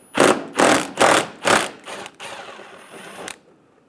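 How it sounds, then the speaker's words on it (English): A 10mm bolt is removed from a bumper bracket on a 2005-2015 Toyota Tacoma, heard as four loud, evenly spaced ratcheting or whirring bursts followed by a longer, softer run that stops abruptly, with no voices. "Remove the bolt."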